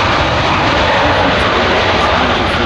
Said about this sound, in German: The decision to fit this aircraft, the Antonov 178, with a pair of turbojets.